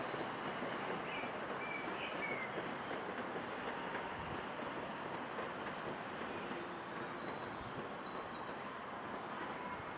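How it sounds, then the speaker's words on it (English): A train passes through Lichfield City station as a steady, fairly faint rumble that holds evenly from start to finish, with faint insect and bird sounds in the background. "Train."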